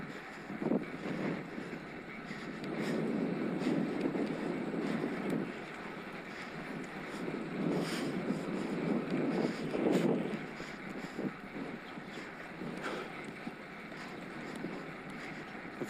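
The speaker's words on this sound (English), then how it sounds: "Got a gentle wind from my left." Wind buffets the microphone as a cyclist rides an e-bike along a lane in the Peak District, a steady low rush with gusts that swell and fade.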